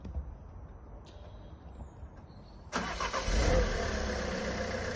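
Van engine on a driveway while it is being manoeuvred: quiet background at first, then the engine turns over and settles into a steady, fairly loud idle close by, with no talk.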